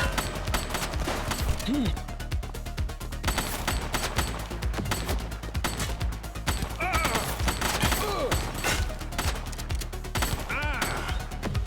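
Rapid gunfire from a suspect in The Precinct police game rattles on throughout, dense bursts of shots over a steady background with shouted voices breaking in now and then.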